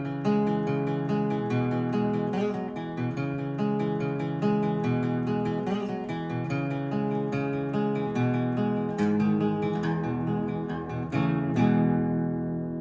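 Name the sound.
guitar intro, open D tuning, capo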